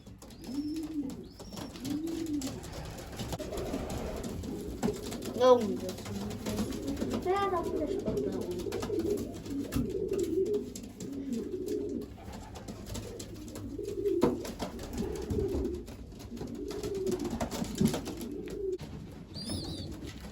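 Racing pigeons coo softly and repeatedly inside a loft, with low, rolling calls overlapping against a faint background hum.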